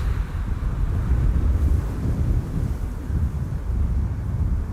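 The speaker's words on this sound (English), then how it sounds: "And the wind all of a sudden is picking up." Steady wind gusting at Amsterdam Schiphol Airport on a sunny day, a loud continuous low roar with microphone buffeting throughout, no voices.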